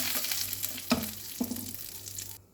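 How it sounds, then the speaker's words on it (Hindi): Drumsticks fry in a pan for a potato and drumstick bhaji, a close, steady sizzle with two distinct stirring clicks before it cuts off abruptly. "ड्रमस्टिक को भी हम चारों तरफ से अच्छे से फ्राई कर लेंगे"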